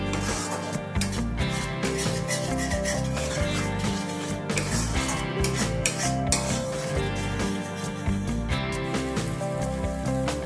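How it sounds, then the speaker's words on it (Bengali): Spice masala with Kashmiri red chili powder is stirred and scraped in a metal kadai for katla fish curry, a steady, loud rasping and rubbing of a spatula against the pan that keeps going without pause. "মশলাটাকে এবারে ভালোভাবে কষিয়ে নেব।"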